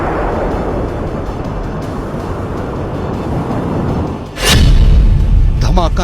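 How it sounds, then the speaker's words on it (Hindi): One of three missiles striking a target in Iran, heard as several seconds of steady rushing rumble that breaks into a sudden, loud, deep boom near the end, with the roar lingering afterward. "धमाका नंबर 1,"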